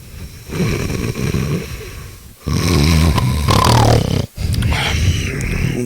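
Loud, rasping snores come close up in long rumbling breaths, separated by short silent pauses between them.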